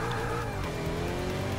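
An all-wheel-drive Bugatti Veyron launches hard, its engine a steady loud roar with faint tire noise, heard alone without talk.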